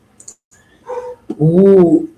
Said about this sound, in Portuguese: Ih, meu cachorro começou a latir.